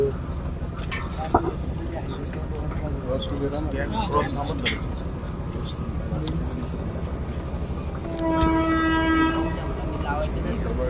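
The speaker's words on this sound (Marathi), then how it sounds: "रेल्वे जाऊ दे" A train passes near a railway crossing in Maval taluka, close to the Kanhe flyover site, its rumble running under the talk of a crowd and a long horn blast sounding near the end.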